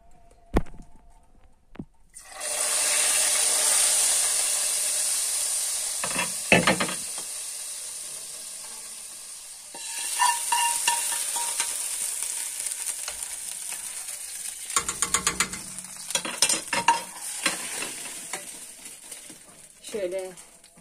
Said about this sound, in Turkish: Sonra çorbanın üstüne ekleyeceğim bu yağı.